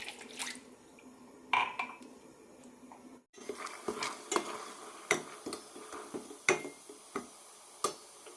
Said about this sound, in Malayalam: കാൽ കപ്പ് വെള്ളം കൂടി ഒഴിക്കാം